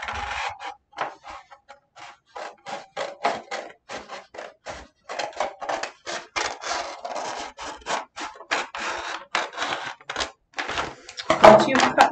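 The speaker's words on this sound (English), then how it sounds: "Just cut along the seam to open up the bag." Scissors cut along the seam of a paper bag in a long series of crisp, rhythmic snips and rustles of paper, close and fairly loud, with a louder crinkle near the end.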